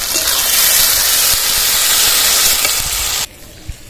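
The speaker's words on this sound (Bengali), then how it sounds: "পেঁয়াজটা ভাজা হয়ে গেছে এবার রসুন বাটাটা দিয়ে দেবো আদা জিরে লঙ্কা বাটা দিয়ে দিচ্ছি টমেটো কুচি দিয়ে দিলাম" Onion, garlic paste, ginger-cumin-chilli paste and chopped tomato sizzle loudly in hot oil for a home-cooked egg and young jackfruit curry: a close, steady hiss that stops abruptly near the end.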